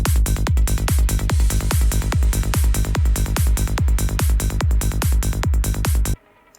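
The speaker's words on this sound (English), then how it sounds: "You can hear that it's kind of fading into when that crash happens." Loud psytrance track with a steady driving kick and rolling bass under a bright crash impact, pulsing in a tight, even rhythm before cutting off abruptly near the end.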